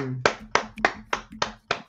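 A run of six hand claps in steady rhythm, each dull and muffled rather than sharp, close by with a brief low hum before the first clap.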